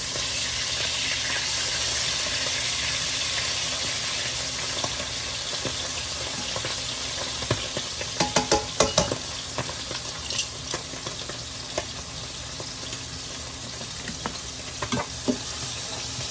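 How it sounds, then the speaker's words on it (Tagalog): Galunggong fish frying in a pan with tomato, a steady sizzle joined midway by a cluster of sharp clatters and spatters as the fish is turned, close and without talk. "Balaktarin natin guys ang ating galunggong."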